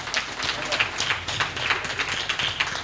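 An audience applauds at an evening art event in Cotonou, a dense patter of clapping running throughout with a voice talking over it.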